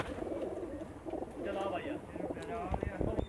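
Pigeons in a loft coo in overlapping throaty, warbling calls, close and fairly loud, with some rustling and background noise mixed in.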